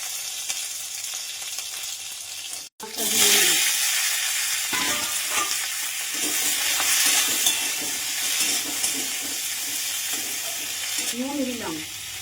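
Bay leaf, dried and green chillies and panch phoron fry in hot oil with a loud, steady sizzle that holds close and continuous after a sudden start, with faint stirring scrapes in between.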